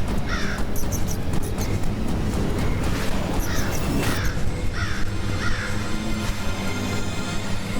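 A crow caws repeatedly in an animated Ganesh series, harsh calls in quick bursts over a dense, busy soundtrack.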